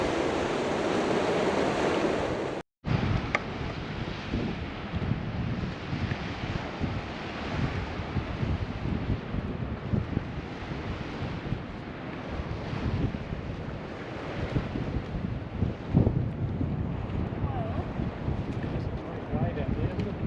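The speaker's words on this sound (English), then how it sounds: "Look at those waves." Ocean waves breaking on a clean surf beach at Fowlers Bay, South Australia, heard as a steady, loud wash of surf with gusts of wind buffeting the microphone throughout.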